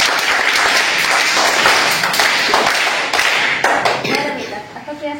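Children in a Zilla Parishad primary school classroom clap their hands during a quiz, a loud, close burst of many small hands with sharp individual slaps, tapering off into scattered claps and shuffling near the end.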